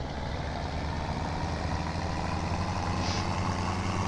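Bigger tractor in Farming Simulator 17 runs at a steady, droning engine hum, constant and fairly loud with no change in pitch, no voices over it.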